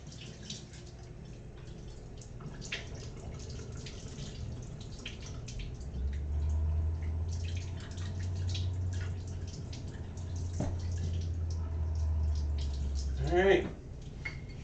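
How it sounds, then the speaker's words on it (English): Hand washing of a dish under a running kitchen tap, a steady low rush of water with occasional drips and clinks, moderately close, under faint background noise. "I'll just wash it by hand, try not to get any water on the chocolate from the cookies."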